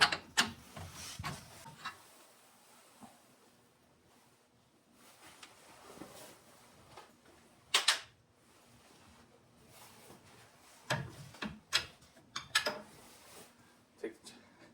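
Bolts being removed from a Suzuki Jimny suspension arm during a lift kit install: scattered metallic clicks and ratcheting bursts with quiet gaps between, a few sharper clanks near the end.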